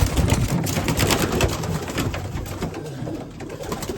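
Racing pigeons cooing outdoors in cold weather, repeated soft throaty coos overlapping in an irregular rhythm at close range, with no talk.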